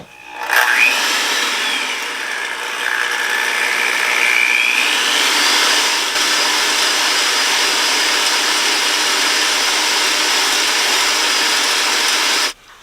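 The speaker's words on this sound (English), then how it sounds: "I have my electric hand mixer." An electric hand mixer whirs steadily as it beats egg whites with cream of tartar for seven-minute frosting, a loud continuous motor whine with slight pitch shifts that runs for about twelve seconds and then cuts off.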